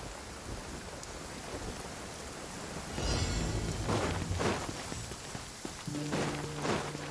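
Steady rain falls in Genshin Impact, a continuous hiss with a swell of rumbling thunder midway and a few game tones near the end.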